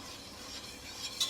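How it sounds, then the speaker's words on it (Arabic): A kilo of yogurt, an egg and a spoonful of starch stirred together cold in a pot for shishbarak sauce, giving a soft continuous swishing scrape with a brief louder clink near the end. "ولخليط اللبن رح أحط كيلو لبن، بيضة، معلقة نشا، وأحركهم على البارد"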